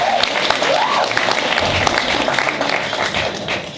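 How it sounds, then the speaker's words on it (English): An audience at a matric banquet claps for grade 12 students, a steady wash of applause filling the room for a few seconds, with faint voices mixed in. "Give yourselves a round of applause"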